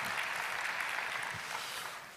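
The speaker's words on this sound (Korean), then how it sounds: "박수 치셔도 됩니다." Audience applause at the beLAUNCH 2013 startup festival, a steady dense clapping from a crowd throughout, fading slightly at the end.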